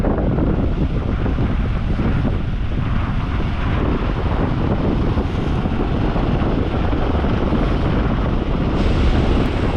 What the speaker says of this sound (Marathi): समुद्राच्या आतमध्ये आल्यावरती तुम्ही वारा बघू शकताय भयंकर वारा आहे